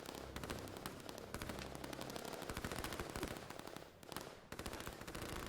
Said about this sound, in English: they're shooting each other as they go